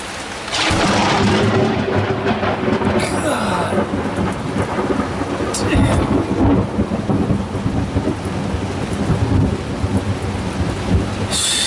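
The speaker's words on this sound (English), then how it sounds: "I was going to shoot some video of the lightning, but there was a strike that came really close" A sudden, very close lightning strike's thunder crack breaks into a long, heavy rumble while steady rain pours down throughout, on a sailboat in the Golfo Dulce, Costa Rica.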